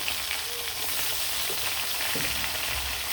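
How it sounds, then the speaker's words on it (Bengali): Rui (rohu) fish sizzles steadily in hot oil, a dense, even frying hiss that continues without a break. "মাছটা তেলের মধ্যে দিয়ে দিলাম"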